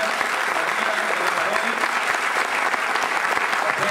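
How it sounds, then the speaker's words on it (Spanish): An audience at a teamwork talk at UCIC gives the guests sustained, steady applause for about four seconds, dense and even throughout. "quiero pedirles un fuerte aplauso para los invitados"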